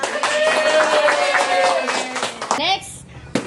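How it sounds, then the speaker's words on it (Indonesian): A family claps together at a home gift-exchange gathering, a quick run of hand claps mixed with overlapping voices and chatter, fairly close and loud, tapering off near the end. "Tepuk tangan."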